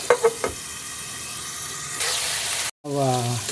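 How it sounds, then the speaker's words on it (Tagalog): Chicken liver fries in a pan with a steady close sizzle, a few clattering knocks from stirring at the start, a brief cutout, then a voice speaking over the hiss. "bahagya ko lang ipapan-fry itong chicken liver"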